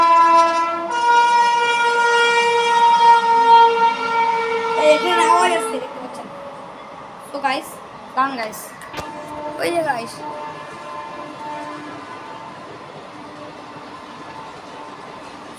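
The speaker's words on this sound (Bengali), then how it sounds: "এই ট্রেন আওয়াজ আছে ভালোবাড়ি স্টেশন কাছে" A train near Bhalobari station sounds a long, loud horn blast, followed by rumbling and clanking of the passing cars fading away, with a person talking over it.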